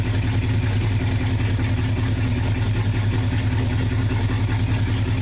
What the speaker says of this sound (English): But the engine sounds good.